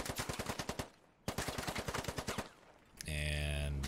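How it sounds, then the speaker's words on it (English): Automatic gunfire from a weapon shooting through a window in the military shooter Squad, two rapid bursts at moderate distance separated by a short gap, followed by a steady, tonal hum. "And now he's just shooting in the window."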